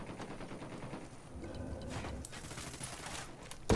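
Rapid bursts of gunfire, including a P90, crackle continuously amid a busy, noisy battle soundscape in the video game Ghost Recon Wildlands, with a sharp louder burst at the very end.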